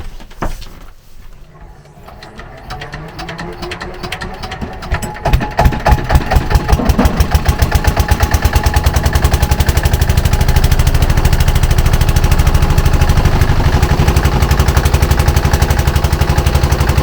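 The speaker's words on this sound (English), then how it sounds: "Now he's going to start the engine." A boat engine on a wetland is started with a few sputters, then settles into a loud, rapid, steady chugging that runs on to the end, with voices faintly underneath at the start.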